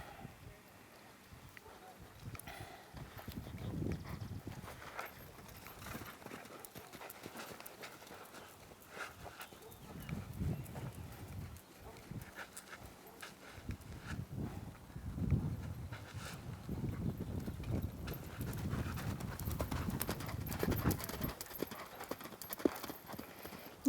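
Horse hooves clip-clopping across a show-jumping arena as horse and rider reverse direction over the course, a steady rhythmic beat with brief snorts and faint background voices.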